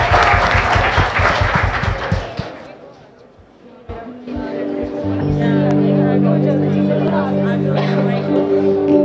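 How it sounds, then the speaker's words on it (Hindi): Audience at a church Christmas fun fair service clapping to welcome a choir, loud rhythmic clapping at first that fades, followed by sustained organ-like music and crowd sound. "क्यों ताली बजाकर हम उनका स्वागत करें"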